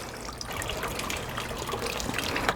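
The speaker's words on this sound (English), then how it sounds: "Make sure the bucket is over the dripping water." Excess water dripping and trickling from wet clay hung in pillowcases into a bucket, a steady close patter of drops and small splashes.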